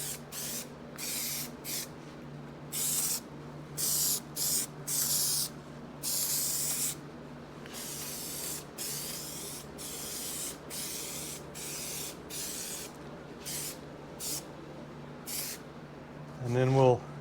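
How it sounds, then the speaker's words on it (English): Aerosol spray glue hisses onto seat foam during a 1973 Suzuki TC125 seat recover, in a dozen or so short bursts of varying length, fairly close, with quiet gaps between. "glue on the foam."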